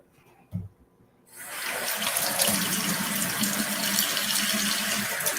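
Kitchen tap water rushes into a sink as food is rinsed, a loud steady splashing flow that starts abruptly after a brief quiet moment with a small clunk.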